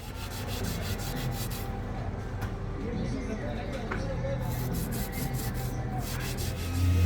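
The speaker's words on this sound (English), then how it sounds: "I have sanded down the sail drives." Steady abrasive rubbing of sanding down a boat's sail drives during a haulout, a continuous gritty scrape running the whole time at close range, with some background activity.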